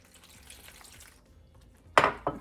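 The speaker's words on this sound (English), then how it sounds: "And now just keep putting water in here" Water is added to flour for paratha dough: a faint trickle runs first, then a brief, close splash lands in the bowl, followed by a smaller second one.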